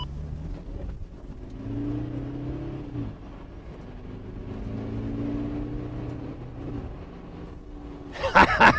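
Toyota Prado accelerating at full throttle, a steady engine drone with a rising pitch across several seconds, heard from inside the cabin at moderate level, ending with a brief louder clatter.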